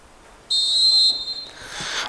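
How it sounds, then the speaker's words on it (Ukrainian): A single sharp, high referee's starting whistle at an amateur football cup match rings out for about half a second, then the background crowd murmur carries on. "стартовий свисток у нас пролунав"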